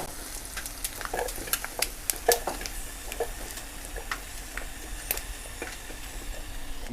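Prawns frying in oil in a pan for a spicy prawn roast, a steady crackling sizzle with sharp pops and spits scattered throughout, no voices.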